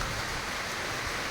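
Heavy rain at a cricket ground in Nalbari, arriving with wind, makes a brief, even, broadband hiss at low level with no voices.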